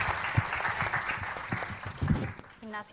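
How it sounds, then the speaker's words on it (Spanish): Audience clapping at a Spanish science talk, moderate and somewhat distant, with voices murmuring underneath and a brief spoken sound near the end. "vamos a darle un aplauso"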